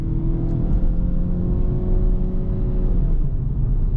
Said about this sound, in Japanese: ただじわーっと踏んでいく分には、ターボだと気づかないくらい自然に回る。